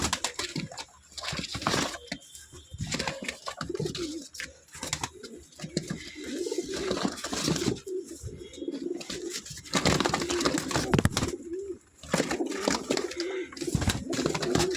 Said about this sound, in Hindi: लो जी भाई कबूतर आए हैं।